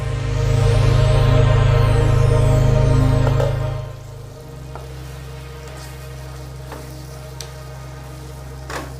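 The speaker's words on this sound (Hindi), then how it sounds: "5 मिनट के लिए और हम इसे ढककर अच्छे से पका लेंगे।" Guava chutney with jaggery cooks in a covered pan, giving a steady loud sizzle and bubbling for about four seconds that then drops to a quieter, even simmer with occasional faint pops.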